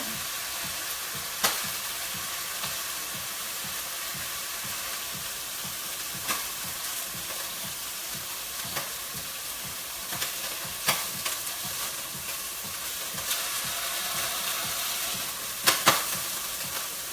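Beef for sukiyaki sizzles and fries in a pan, a steady bright hiss broken by repeated scraping stirs and a few sharp clicks of the utensil against the pan.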